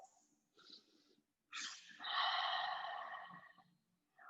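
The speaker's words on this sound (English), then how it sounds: "2 more deep breaths" Slow, deep breaths during a yoga stretch, a few soft, close inhales and longer exhales separated by short pauses, with no talking.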